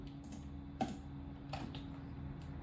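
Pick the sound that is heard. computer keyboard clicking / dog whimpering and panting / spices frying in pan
computer keyboard clicking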